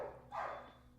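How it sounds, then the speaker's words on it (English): Several dogs bark in an alleyway, one loud burst swelling from a quieter start and trailing off over about a second, heard from a moderate distance with no talking. "Ignore the dogs in the alleyway behind us."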